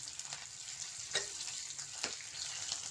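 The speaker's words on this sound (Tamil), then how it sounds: "கொஞ்சம் நல்லா வணக்கிட்டு ஒரு பொன்னிறமாக வந்துடும் வெங்காயம்." Onions sizzle and fry steadily in hot oil for sambar, a continuous close crackling hiss with a few sharper spits and stirring scrapes, no voices.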